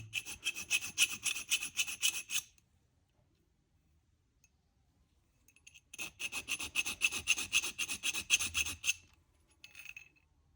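A needle file rasps against metal in two long bursts of rapid, even back-and-forth strokes, close and fairly loud, separated by several seconds of near silence, with a short faint scrape at the end.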